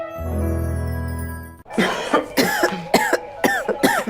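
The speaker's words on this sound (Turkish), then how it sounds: "Siz öksürünce ben çok üzülüyorum." A string of harsh, close coughs in quick succession, coming after a sustained musical tone fades out.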